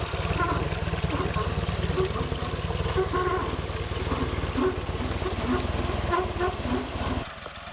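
Water trickles and pours steadily throughout, a continuous splashing flow with a low rumbling hum underneath, easing slightly near the end.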